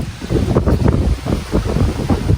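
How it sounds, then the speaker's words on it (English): Strong, gusty wind blows ahead of Hurricane Helene and buffets the microphone outdoors, making a loud, continuous roaring rumble that surges in waves throughout. "Look, see the wind? See the wind?"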